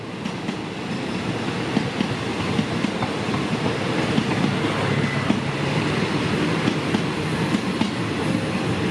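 A Thai diesel passenger train, number 136 from Ubon Ratchathani to Bangkok with a new locomotive, accelerates through a road crossing on Ratchawithi Road, a loud steady engine roar with rhythmic wheel clatter close by.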